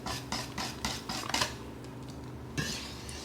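Metal shallow 10-inch cake pans handled in a kitchen, giving a short run of close clanks and scrapes, with one louder knock near the end.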